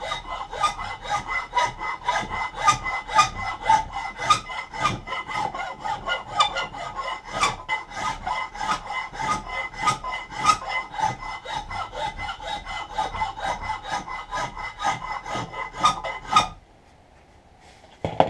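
A file rasps steadily back and forth over a wooden hatchet handle being shaped by hand, close and loud, with quick rhythmic strokes for about sixteen seconds before stopping into near silence.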